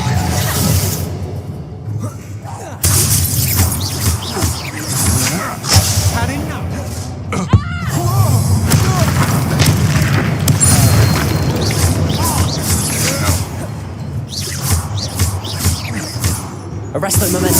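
Explosions from the Reductor curse in the video game Hogwarts Legacy sound as a string of booming, crashing blasts and whooshes over a rumbling game soundtrack, with a player's voice calling out over the action.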